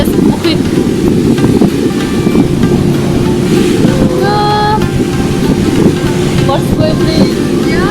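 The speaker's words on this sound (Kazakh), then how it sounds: "Қандай күшті теңіз. Ой, теңіз емес, мұхит." Strong ocean waves are heard from aboard a ship at sea as a loud, continuous roar mixed with heavy wind buffeting, with faint tonal squeaks from the vessel.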